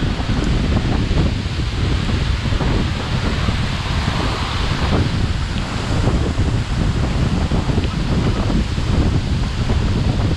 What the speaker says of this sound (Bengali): যতটা কাছে যাচ্ছি ততই বাতাস বেশি, অনেক বেশি বাতাস